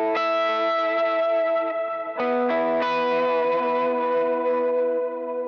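Electric guitar chords with overdrive and a long delay tail, two sustained chords ringing and overlapping, the second struck around the middle, the repeats smearing into a continuous wash, steady and fairly quiet.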